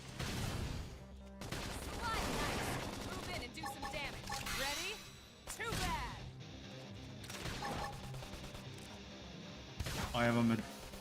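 Video game gunfire comes in rapid bursts of shots, crashes and impacts that cluster and pause irregularly, mixed under talk and game sounds throughout.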